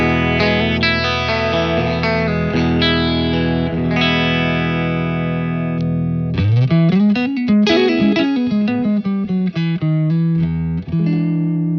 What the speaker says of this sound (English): my clean tone through my Bravado amp sounds like this